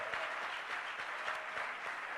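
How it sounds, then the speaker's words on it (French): A congregation applauds at an evening church convention service, a steady, dense round of clapping from many hands that holds evenly throughout with no voices over it. "all of us should clap for him tonight"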